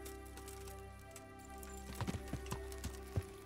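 A handful of soft horse hoof clops from the video game Kingdom Come: Deliverance land irregularly over a steady humming musical background.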